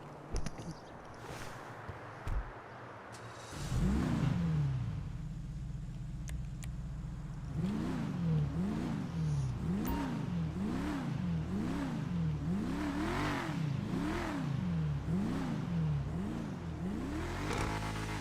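An armored Enus Paragon R car engine in Grand Theft Auto Online revs repeatedly in a steady rising-and-falling pattern, loud and close, following a brief idle start with a few clicks.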